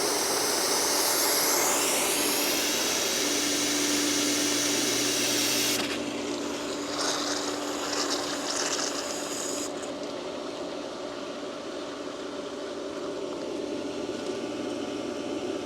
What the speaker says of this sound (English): Open the bleeder to help the pump prime quicker.